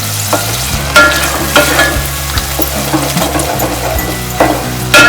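Raw ground masala paste for a Bombay duck curry frying in a pan over a high flame. A loud, steady close sizzle is broken by regular scraping stirs and spatter pops, with a low hum underneath.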